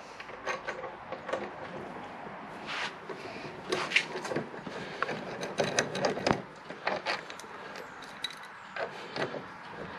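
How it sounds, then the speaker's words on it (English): A ratchet works on the front brake caliper bolts of a Peugeot Django scooter, giving irregular clicking and metallic clatter with short bursts and pauses, close by and alone without speech. "remove the front brake caliper"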